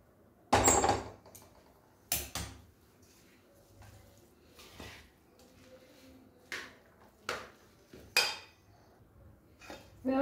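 Veg pulao being stirred in a pot, with a few sharp clanks and scrapes of a spoon against the metal spread across the clip, separated by quiet stretches.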